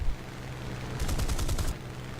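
Burst of aircraft machine-gun fire from a Sea Hurricane Mk.IC fighter in War Thunder, a rapid, rattling stream of shots lasting under a second over steady engine drone, loud and close.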